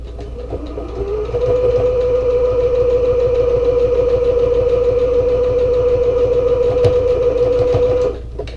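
A sewing machine running a long continuous seam on a medium zippered travel bag, a loud steady mechanical hum and rapid needle chatter that starts after a second and stops abruptly near the end.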